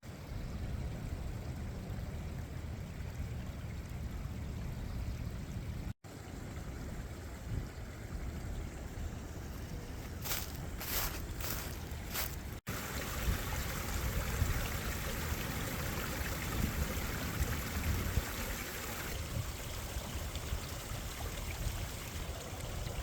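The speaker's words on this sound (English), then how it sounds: "Maybe even a better waterfall." A waterfall rushes along a nature trail at Cave of the Mounds, a steady, close hiss of falling water that continues unbroken throughout, with a few faint clicks partway and no voices.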